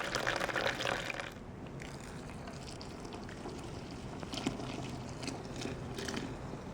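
Homebrew wort for an oud bruin runs out of the mash as the third batch-sparge runnings, a steady close trickle and splash of liquid filling a vessel, with a brief louder gush at the start.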